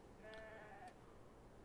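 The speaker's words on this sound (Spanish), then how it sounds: "Ovejas." Sheep in the video game Beyond: Two Souls, set in the desert, give a single short, quiet bleat with a wavering pitch over a low, steady background hum.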